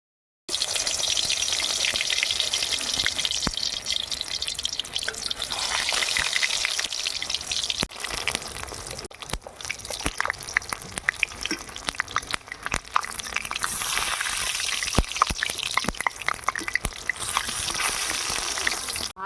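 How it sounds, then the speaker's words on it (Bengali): Pumpkin flower fritters deep-fry in white oil in a kadai, with a loud, continuous sizzle and bubbling and sharp crackles and pops throughout, the sizzle briefly easing midway before building again. "এইভাবে ডুবিয়ে ডুবিয়ে ভেজে নেব"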